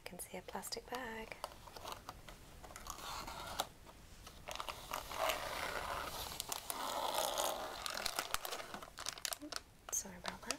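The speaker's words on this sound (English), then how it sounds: "Plastic bag." A plastic bag crinkles and rustles in bursts as it is handled close by, with brief talking near the start.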